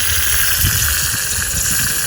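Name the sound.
leaking backflow preventer chugging water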